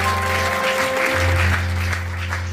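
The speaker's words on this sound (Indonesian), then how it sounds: "tepuk tangan buat Tuhan Yesus" A church congregation applauds Jesus during a service, with steady, full-room clapping layered over sustained keyboard chords that hold underneath.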